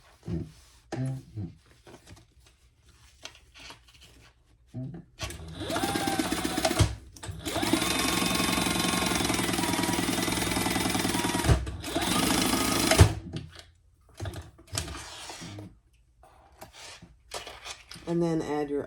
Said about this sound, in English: And baste our zipper placket in place.